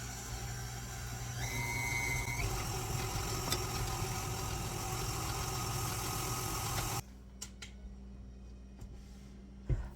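A KitchenAid stand mixer runs with a steady, loud motor hum and whir while mixing cream cheese for a sweet potato casserole, then cuts off abruptly, leaving a quiet room with faint clicks.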